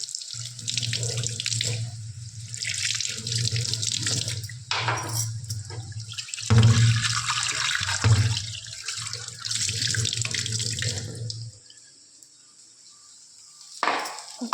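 Running tap water pours steadily into a kitchen sink as food is rinsed under it, a continuous splashing flow with occasional clunks, then stopping near the end before a brief final burst.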